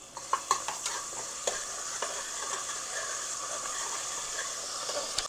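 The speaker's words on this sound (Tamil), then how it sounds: "எண்ணெய் ஊற்றிட்டு கொஞ்சம் இஞ்சி பூண்டு போட்டு தாளிக்கும்" Steady sizzling of ginger and garlic tempering in hot oil, with scattered crackles and pops and occasional scraping of a spoon in the pan.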